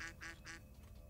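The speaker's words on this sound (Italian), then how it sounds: "Le papere hanno sempre ragione." Ducks quacking three times in a quick, even rhythm, fairly faint and heard alone without talk.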